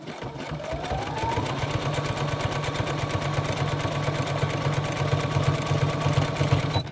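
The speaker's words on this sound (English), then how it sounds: "let's try to sew this again" A sewing machine stitches steadily and rapidly, a close, even mechanical whir with a fine regular pulse that runs without pause for the whole stretch, no voices over it.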